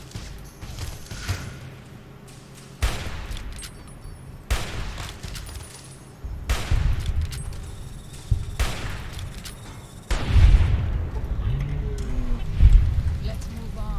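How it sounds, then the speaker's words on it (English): Gunfire in Fallout New Vegas, with several sharp shots spaced a few seconds apart over a steady rain-like background noise while someone talks. "Oh, we're getting shot at already?"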